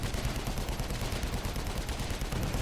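Continuous gunfire from units in the real-time strategy video game AirMech, a dense, steady rattle of rapid shots with no pauses, loud and unbroken across the whole stretch.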